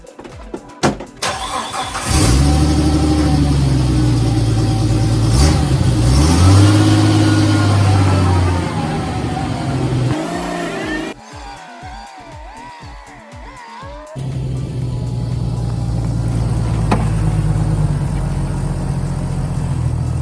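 A Jeep TJ engine starts and revs loudly up close, with rising and falling throttle as it drives to flex the axle, a rougher uneven stretch in the middle, then a steady loud drone.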